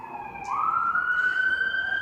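A siren wails in the distance, its tone sliding up and holding steady, a single continuous rising call with no talking.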